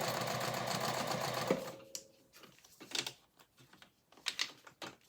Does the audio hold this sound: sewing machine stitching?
yes